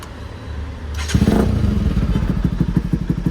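A modified Bajaj Pulsar NS200 motorcycle idles quietly, then its engine and exhaust rise into a loud, close, rapid pulsing burble with a sharp initial thump.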